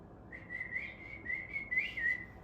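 A person whistles a wavering, tuneful melody alone, clear and fairly close, with short phrases rising and falling.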